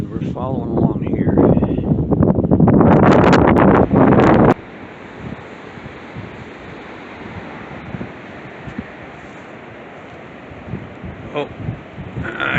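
Strong wind gusts roar across the microphone on an open-field day hike at Meadowsweet Preserve, loud for about four seconds and then cutting off abruptly to a quiet outdoor hush.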